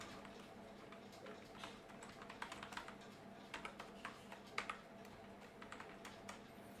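Typing on a computer keyboard, quiet and close, with irregular clusters of light key clicks over a soft room hum and no talking.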